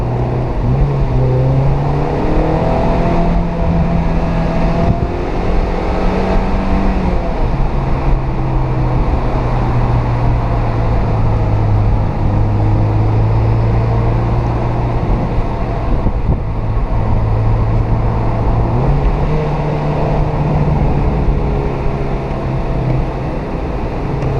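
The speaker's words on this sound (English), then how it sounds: "Downshifting it right, revving it up and heel toeing it right to the right RPM." A Mazda MX-5 NC engine revs loudly and continuously through heel-toe downshifts on damp mountain roads at Tail of the Dragon, its pitch climbing and dropping with each blip, up close with no talking.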